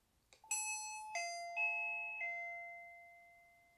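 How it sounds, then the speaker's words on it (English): A SwitchBot 2K video doorbell's electronic chime rings four descending tones that ring out and fade in a quiet room. "pressing the doorbell icon will obviously make the doorbell ring."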